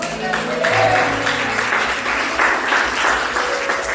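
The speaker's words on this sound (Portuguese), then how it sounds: "Você pode sentar no seu lugar nessa noite e aplaudir o Senhor Jesus?" A church congregation applauds in a continuous, dense wash of clapping that fills the hall at a steady, fairly loud level throughout.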